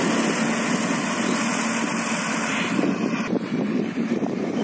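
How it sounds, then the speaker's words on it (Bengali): A rice harvester's engine runs steadily in a paddy field while cutting rice, a loud continuous mid-pitched drone with vibration that shifts slightly in tone partway through. "দর্শক দেখতে পাচ্ছেন এই মেশিন আসতেছে ধান কেটে কিভাবে কাটতেছে"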